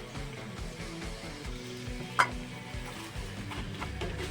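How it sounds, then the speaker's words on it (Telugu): Crab curry being stirred with ground masala in a pan, a steady low scraping and shuffling with a faint sizzle, rhythmic stirring strokes throughout and one brief sharp clink near the middle. "ఇదంతా పీతలకి బాగా పట్టేలాగా కలుపుతాం."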